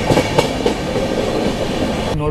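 Palace Queen Humsafar Express passenger train running on rails near Yeshwantpur Junction, Bengaluru, a steady close rumble of wagons with a few rhythmic clacks early on, continuous and loud before cutting off at the end.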